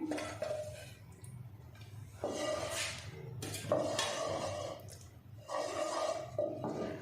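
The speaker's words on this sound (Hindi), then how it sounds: "मैं इसमें घी डाल रही हूँ।" Ghee goes into a pan for an Afghani omelette, with several soft scraping and clinking strokes of a utensil against the metal pan, fairly quiet and close.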